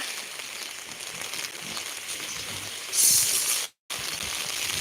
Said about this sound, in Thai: ฝนเริ่มแรงมาแล้วนะคะ